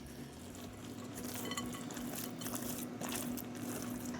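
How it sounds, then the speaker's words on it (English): A spoon works through a potato filling with grated Parmesan, chopped chives and cooked bacon, giving soft, close, squelching stirring scrapes against a bowl in quiet, uneven strokes. "And we're going to give that a mix."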